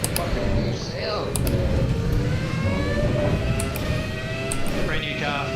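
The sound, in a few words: race car engine in racing video game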